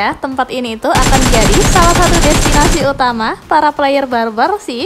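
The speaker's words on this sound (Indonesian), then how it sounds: "Tadi suara tembakannya kayak ngegas gitu ya guys," Loud, rapid automatic gunfire from the PUBG video game on a new tropical map, a dense burst of about two seconds set between stretches of a person talking.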